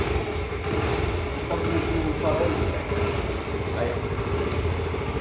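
A motorcycle engine running at idle close by, a steady low throbbing chug with slight fluctuations, while someone speaks briefly over it.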